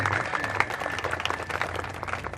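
A crowd at a store's lottery draw applauds in a brief, busy patter of many hands clapping together at close range.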